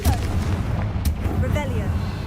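Confringo fire spell from Hogwarts Legacy, cast in a loud booming burst like artillery, with crackling fiery rumble and a couple of sharp hits over about two seconds.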